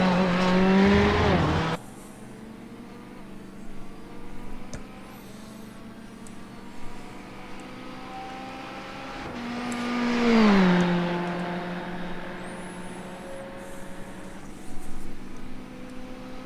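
A Corvette GTE race car laps the Le Mans circuit in an endurance GTE series race, its engine note climbing and dropping through the gears, surging loudest as it passes close mid-clip, then fading back into a distant track drone.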